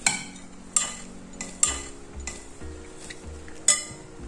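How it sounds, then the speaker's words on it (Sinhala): Egg roti ingredients are mixed well in a bowl, with a utensil scraping and clinking against the side in a steady rhythm of sharp knocks close by and no talk. "හොඳට කලවම් කරනවා."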